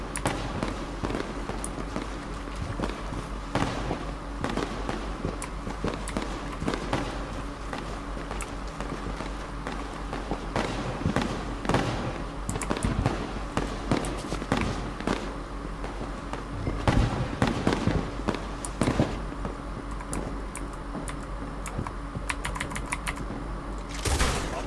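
Rapid volleys of gunfire ring out in the Red Dead Online video game, with dense sharp cracking shots in bursts and steady clusters that keep up loud and close throughout.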